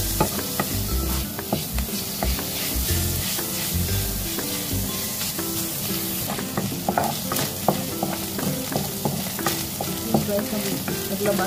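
Ground pork frying in oil in a wok-style pan, a steady loud sizzle with repeated scraping and stirring clicks throughout and no talking.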